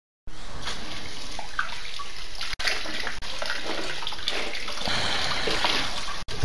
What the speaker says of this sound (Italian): Sentite il rumore del fiume, proprio sembra di averlo sotto i piedi il fiume.